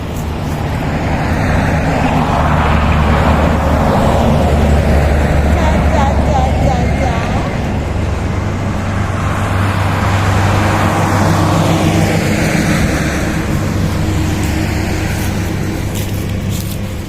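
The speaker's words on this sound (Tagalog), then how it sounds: "May sasakyan." A vehicle passes outside a house, its engine and tire roar swelling and fading as it goes by, with a second swell later, and people talk over it throughout.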